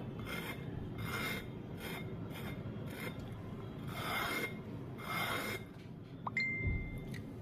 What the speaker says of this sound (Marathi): वाटीच्या साह्याने अगदी वरचाच पापुद्रा निघतो छान